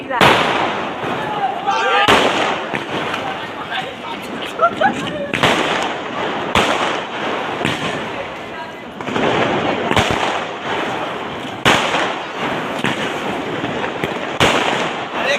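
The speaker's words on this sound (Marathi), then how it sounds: "काही सेकंदमध्ये आता फटाक्याची आतिषबाजी सुरू होणार आहे" A fireworks display bursts at an Ambedkar Jayanti birthday celebration at a Buddhist vihara in Badlapur's Lodha Haven, with loud, sharp explosions repeating every second or two over a continuous crackling roar and background crowd noise.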